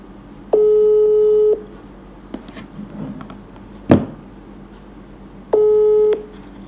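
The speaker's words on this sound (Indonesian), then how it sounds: "Oke, saya telepon ya sebentar." Phone call tones play while a number is dialed, a steady electronic beep about a second long that repeats after several seconds of near silence, with a faint click and handling noise between the two tones.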